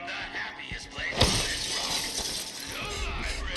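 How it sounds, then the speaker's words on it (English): A kick smashes a pane of glass in the video game Deathloop, one sharp shattering crash followed by a long bright spray of tinkling shards, all over a steady bed of game ambience. "Kick that glass."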